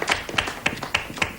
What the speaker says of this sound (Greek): Χειροκρότημα με τρέλα, με τρέλα.